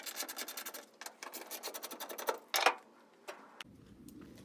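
T40 Torx wrench removing the three bolts that hold a pickup tailgate handle: a close run of quick ratcheting clicks in steady bursts, then a sharper rattle and a few scattered clicks before a quieter hum.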